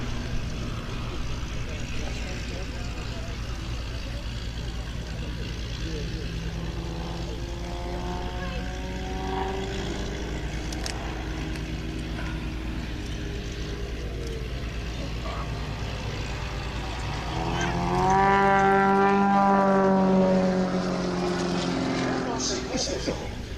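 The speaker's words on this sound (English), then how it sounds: "Formation landing?" Propeller aircraft land in formation during a live event, a steady engine drone that swells into a louder, rising then falling propeller whine toward the end, heard under ongoing commentary.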